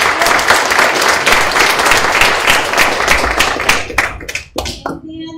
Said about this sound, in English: if we can please give him a big round of applause